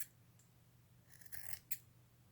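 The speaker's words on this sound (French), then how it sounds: "on va les couper ces parties-là pour le mettre égal" Scissors snip through fabric pieces for a face mask, two or three short, crisp cuts close by in a quiet room.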